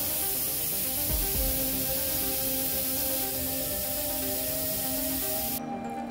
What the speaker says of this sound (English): I'm going to go ahead and airbrush that right over the black